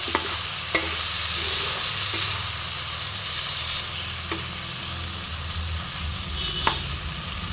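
Cumin and ginger paste sautéing in a pan for fish curry, a steady close sizzle and hiss broken by occasional sharp spatula taps against the pan.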